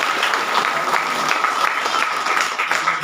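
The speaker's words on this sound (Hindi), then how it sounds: "आप लोग उनके लिए एक बार जोरदार ताली दें" Gathering at a branch meeting in Mandar gives a round of applause for an honoured guest, loud, continuous clapping from a close crowd that stays steady throughout.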